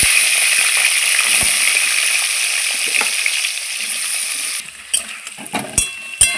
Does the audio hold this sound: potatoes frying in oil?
yes